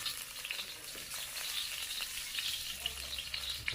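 Garlic and onion sauté in a hot pan for Bohol-style nilarang, giving a steady close sizzle and crackle with occasional stirring pops and no talk.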